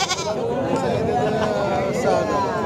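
Goats and sheep bleat at a busy livestock market in Sangola, several wavering calls rising over a constant hubbub of crowd noise and people talking nearby.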